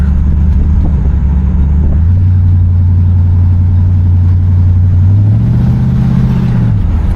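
A 1972 Oldsmobile Cutlass Convertible's engine pulls hard, its low growl climbing steadily in pitch, easing off, then rising again, loud and close with no talk over it.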